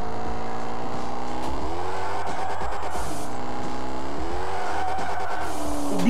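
A Volkswagen Gol squeals its tires in a sustained screech over a constantly revving engine, loud and close, with no voices.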